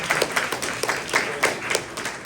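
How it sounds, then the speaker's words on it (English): Audience applause at a San Francisco startup demo night, a steady patter of many hands clapping in a medium-sized room, with a few scattered cheers rising above it for a couple of seconds. "Round of applause"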